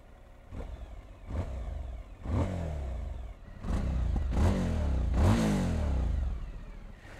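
A Suzuki V-Strom 1000 XT motorcycle engine fires up and is blipped repeatedly. About six sharp rev bursts rise and fall in an uneven rhythm over a low idle, each one close and fairly loud.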